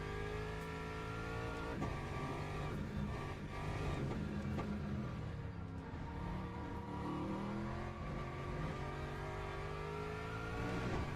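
Race car engine in the Le Mans Ultimate sim at Bahrain, droning loudly and continuously with rising and falling revs and gear-change blips throughout, no voices over it.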